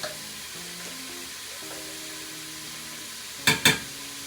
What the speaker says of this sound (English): just let that saute for about 5 minutes